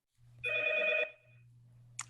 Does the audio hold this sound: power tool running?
no